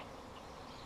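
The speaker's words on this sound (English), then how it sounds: "I got a bee checking me out." A bee buzzes close by outdoors during a cold spell, a steady droning hum with no talk over it.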